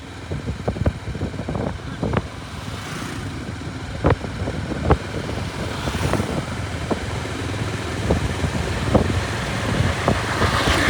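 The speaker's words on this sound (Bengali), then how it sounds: "ঘূর্ণিঝড়" Strong cyclone wind sweeping through Bogura town during a sudden storm, a continuous roaring rush with scattered sharp knocks and gusts throughout.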